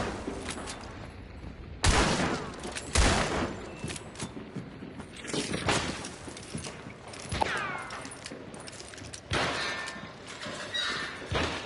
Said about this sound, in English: Not another flash bomb.